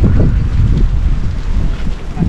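Strong wind buffets the microphone in a continuous low roar, gusting throughout with no voices.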